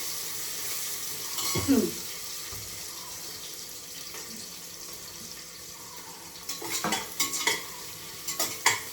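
Biryani ingredients in a pan give a soft sizzle while a spoon stirs and scrapes, with a louder scrape early and a cluster of clinks and scrapes near the end.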